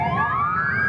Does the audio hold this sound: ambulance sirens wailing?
yes